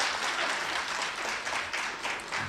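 Audience applause at a live Chinese crosstalk show, a dense, steady wash of many hands clapping that holds loud and continuous throughout without any voices on top.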